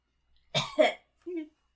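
A person imitates a character coughing, giving a short, raspy double cough followed by a brief voiced groan, close and dry.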